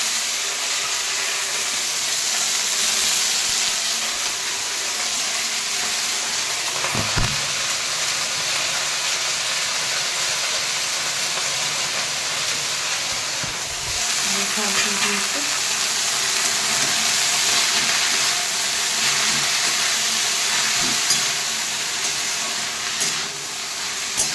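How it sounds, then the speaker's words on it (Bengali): Spinach greens frying in a home kitchen pan, a steady close sizzle and hiss that holds for the whole stretch, with a few soft clanks and stirring knocks along the way. "আর এইদিকে শাকটা ভাজবো"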